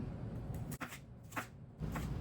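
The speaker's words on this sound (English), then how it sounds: "Now I'm just gonna dice this jalapeno up." A knife dices a seeded jalapeño pepper on a cutting board for pineapple salsa, a few separate crisp cuts at an uneven pace, close up, with no talk.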